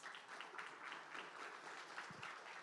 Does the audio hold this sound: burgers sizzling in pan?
no